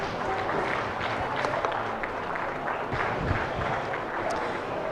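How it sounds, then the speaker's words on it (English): Spectators at a 4-H and FFA steer show clap in a steady, fairly faint patter that stays even across the stretch, with a little crowd murmur beneath. "Let's give those three individuals a nice round of applause"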